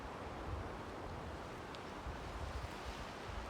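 Ocean surf below a cliff at Church Bay, Bermuda, a steady broad wash of waves mixed with wind rumble on the microphone, constant and fairly loud throughout.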